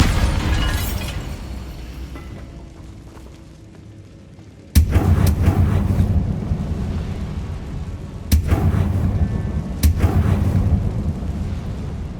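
In Hogwarts Legacy, the Bombarda spell goes off as three sharp, loud explosions with rumbling tails, spaced apart after a quieter stretch of fading debris.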